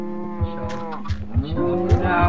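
Several Minecraft cows moo in a cow farm, overlapping low calls repeating close by over a rhythmic thumping.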